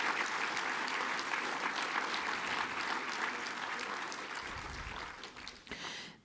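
An audience at an orientation morning gives a round of applause, a sustained dense clapping that gradually thins and fades toward the end, with a brief shuffle and murmur as it dies away.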